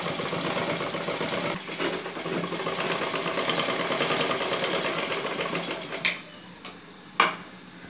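A sewing machine runs steadily, stitching a saree blouse back, its needle chatter continuous for about six seconds, then stopping, with a few sharp clicks and knocks afterward.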